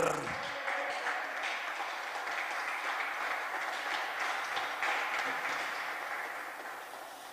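A church congregation claps and cheers during a Spanish-language worship service, a dense, steady wash of many hands with some voices, loud throughout and easing slightly at the end.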